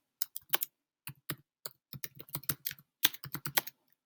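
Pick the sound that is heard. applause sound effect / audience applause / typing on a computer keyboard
typing on a computer keyboard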